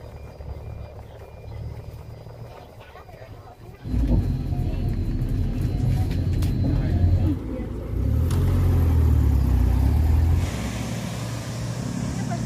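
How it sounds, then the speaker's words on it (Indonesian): Riding the 52K minibus in Fan Ling, Hong Kong, the engine hums at a low level and then swells into a louder, revving rumble, with voices talking over it. "Persis di depan Exit C, kita akan naik minibus dengan nomor"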